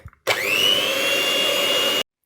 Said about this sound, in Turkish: Soğuyan muhallebimizin içerisine bir paket krem şanti ekliyorum mikserimle çırpıyorum.